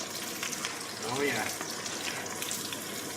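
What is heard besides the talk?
onions poured into pan, frying for chicken karahi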